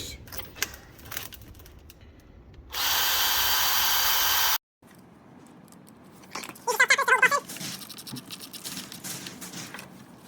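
A steady, high-pitched power drill with a 2.5mm bit whirs for about two seconds drilling a hole in a hand dredge pump, stops abruptly, then scraping and chewing-like rasps follow amid quiet clatter.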